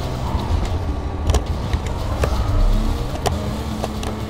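Car engine noise in the Need for Speed Carbon racing game, a loud, continuous rush of engine and road sound under full throttle, with no talking.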